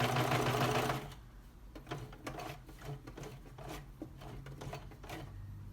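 A serger stitches over elastic in a loud, fast whirring burst near the start. A quieter, uneven run of stitching and handling follows with no voices.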